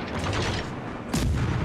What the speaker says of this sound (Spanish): Disparo más grande.